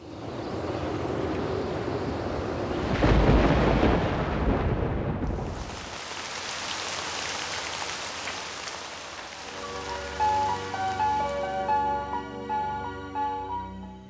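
Heavy rain hisses steadily while a deep rumble of thunder rolls through early on, then the downpour eases as a musical tone rises over the end.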